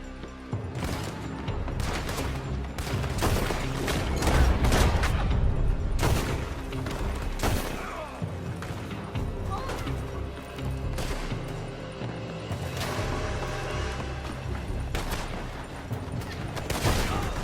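Dense, continuous gunfire from Red Dead Redemption 2 during a shootout at a building, with rapid overlapping rifle and pistol shots and heavy booms that keep up loud and steady throughout.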